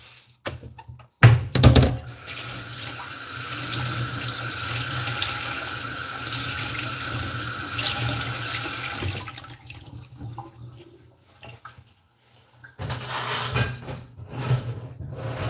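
A kitchen tap runs steadily into a sink while dishes are washed up, the flow stopping and starting again with a few clunks of dishware.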